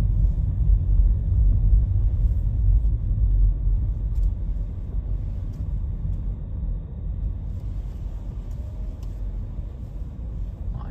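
A car rolls over very steep speed bumps on the road toward Balneário Camboriú, giving a steady loud low rumble of engine and road noise from inside the cabin for the whole stretch, with no talking.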